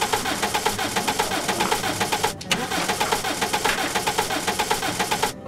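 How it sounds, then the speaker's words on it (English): A car engine cranks repeatedly without catching, a rhythmic starter churn pulsing steadily, broken by a short pause midway and another near the end, loud and close with no voices. "Farmer Greenstock could not start the car."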